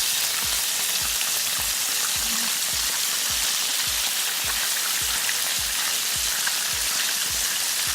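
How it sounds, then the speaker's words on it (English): Buttermilk fried chicken drumsticks frying in hot oil, a dense steady sizzle and crackle throughout with a faint regular low tapping underneath, no talking. "So after 10 minutes of frying it,"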